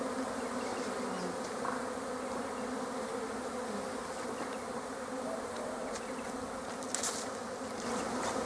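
Honey bees buzz and fly around a queenless hive with no brood and chalkbrood disease, a dense steady drone close by with occasional louder passes of individual bees.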